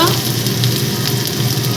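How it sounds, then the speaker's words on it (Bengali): Onions frying in hot oil in a pan, a continuous close sizzle and crackle that stays steady throughout. "আগে পেঁয়াজগুলো তেলের মধ্যে দিয়ে দিল"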